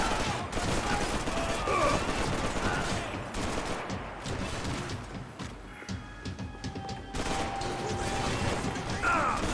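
Gunshots in the video game Max Payne 3, dense bursts of firing over a loud continuous backdrop of game noise, with a voice talking intermittently.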